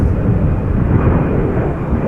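A jet airliner departing Amsterdam Schiphol Airport, a steady deep roar of engine rumble filling the air without letup, loud and broad.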